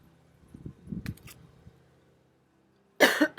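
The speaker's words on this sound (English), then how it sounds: "I'm just going to cough, guys." A quiet stretch of low murmuring and faint rustling gives way to a single loud, close cough burst near the end.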